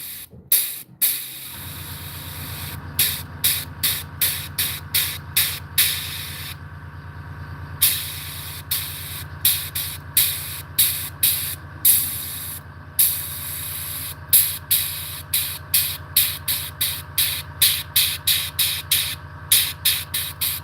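An airbrush sprays paint in a striper and hybrid bass pattern, a steady hiss running under a low compressor hum, broken by many quick, rhythmic bursts as the trigger is pulsed, close and loud without speech.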